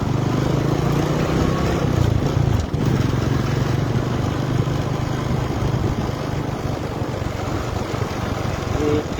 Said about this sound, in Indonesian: Mohon maaf guys karena di motor.